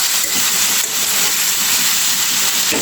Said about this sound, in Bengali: একটু হালকা করে বেগুন আর আলুটা ভেজে নেব